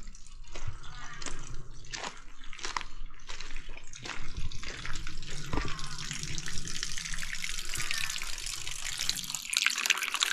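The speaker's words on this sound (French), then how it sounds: "d'abord il faut se laver les mains, ça une main après l'autre, et ensuite se laver la bouche." Water runs steadily at a hand-washing fountain at a shrine in Takachiho, Japan, with close splashing and scattered drips and trickles throughout.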